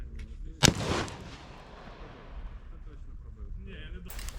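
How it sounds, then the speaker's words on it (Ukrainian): One sharp, loud rifle gunshot, 5.56 or 7.62 calibre, fired at a wall, cracks out, followed by a long echoing decay that fades over a few seconds. "це у нас який п'ятий постріл"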